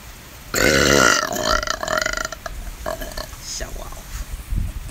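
A loud, prolonged burp during a burping competition, a long rumbling belch with a couple of shorter follow-up burps, close up, with some voice noise after.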